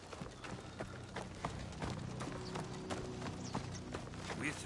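Horse hooves clip-clop in Assassin's Creed Shadows, a steady rhythmic trot of close, moderately loud hoofbeats over ambient game sound with faint talk in the background.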